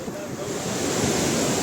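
Strong waves surge and break at Kelwa beach, a continuous loud roar of surf mixed with wind buffeting the microphone, with no other clear sounds.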